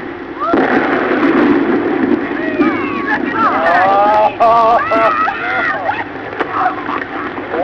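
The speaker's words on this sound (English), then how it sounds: "Our camera stopped rolling immediately after the blast." Explosives blow up a whale carcass on beach dunes: a sudden broad blast near the start swells into a sustained loud roar, with crowd voices and shouts rising over it.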